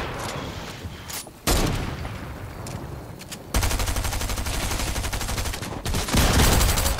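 Bursts of automatic gunfire in Fortnite, rapid close volleys broken by short pauses, loud and continuous for much of the stretch.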